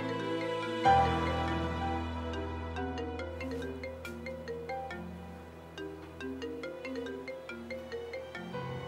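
A phone ringtone plays close and clear, a melodic repeating tune that continues steadily for several seconds with no talking.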